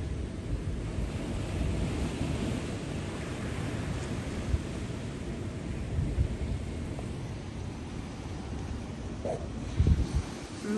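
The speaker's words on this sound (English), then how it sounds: "Here's St. Pete Beach." Ocean waves at St. Pete Beach, a continuous rumbling surf wash mixed with wind buffeting the microphone, fairly loud and steady with a few brief thumps.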